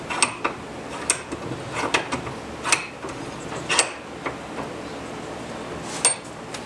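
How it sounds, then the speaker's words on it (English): Metal clanks and knocks as a Porsche 911 front wheel hub with rotor is set into a bench vise, a series of sharp, moderately close impacts spaced irregularly over steady workshop background noise. "I'm going to put this in our vise."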